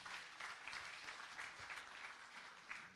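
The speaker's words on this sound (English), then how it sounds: "So can we please give a warm round of applause to all the panelists." Warm applause for the panelists at the launch of a Northern Cape education improvement plan, a soft, distant patter of many hands clapping evenly throughout.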